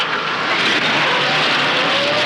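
A car pulls away at speed during a chase in a 1935 action film, a loud, continuous engine roar with road noise and a faint rising whine, heard alone without talk.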